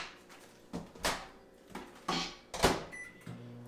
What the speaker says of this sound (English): 30 seconds in the microwave.